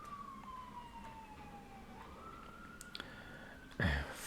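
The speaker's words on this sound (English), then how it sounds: "Fire trucks always, their sirens are going off." A distant siren, presumably a fire truck's, wails as one slowly falling, then rising tone under steady street background, ending with a brief louder rumble.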